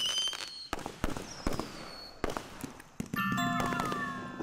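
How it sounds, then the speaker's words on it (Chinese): Fireworks from an electronic fireworks display, with sharp bursts and crackling pops scattered across the clip, some whistling rising tones and a bright sustained shimmer toward the end, fairly close and loud. "烟花视频是吗？ 电子烟花。"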